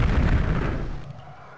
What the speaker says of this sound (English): Is it the brazier that was shooting at me?